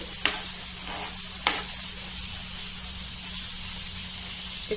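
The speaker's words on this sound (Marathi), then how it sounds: "छान आपलं हे मस्तपैकी परतत आलं आहे म्हणजे व्यवस्थित चांगलं भाजलं गेलं आहे" Paneer tikka sizzling and frying in a hot pan, a steady loud hiss with a couple of sharp scrape-like bursts as the pieces are stirred and turned, with no voices.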